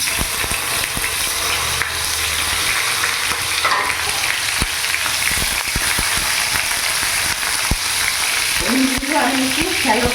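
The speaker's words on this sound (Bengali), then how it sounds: "এখানে তেল গরম হয়ে গেছে, আমি এবার পনিরের পিসগুলো দিয়ে দেবো।" Paneer pieces shallow-fry in hot oil for palak paneer, giving a continuous loud sizzle with scattered pops and crackles. Brief utensil scrapes and clatter come near the end.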